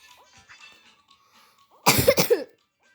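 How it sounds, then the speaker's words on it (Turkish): After a few seconds of quiet with faint background sounds, a short fit of several loud, close coughs bursts out in quick succession. "Arkadaşlar biraz hastayım. Öksürüğümün sesi gelebilir."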